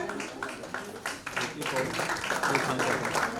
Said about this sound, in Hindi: तालियों की गड़गड़ाहट, आपको बहुत बहुत बधाई